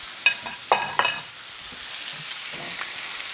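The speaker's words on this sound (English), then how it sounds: "We seared all sides of the rack of lamb." Rack of lamb sears in avocado oil in a hot pan, giving a few sharp sizzling bursts in the first second, then a quieter sizzle with another faint flare near the end; no talking.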